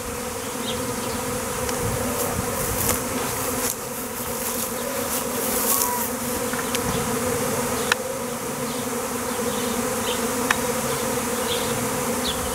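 A dense swarm of some 20,000-30,000 honeybees, spread over 5-6 metres of height, buzzes loudly and continuously, a steady droning hum with occasional individual insects passing close by.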